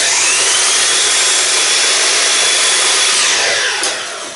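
A power saw in a jig cuts through a wooden wood pen blank with a loud, steady high whine and rasp that holds for several seconds before the cut finishes and the motor winds down.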